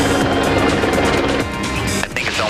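Helicopter flight over Santa Monica Pier heard from inside the cabin: a loud, steady rotor and engine drone fills the whole stretch, with a voice partly under it.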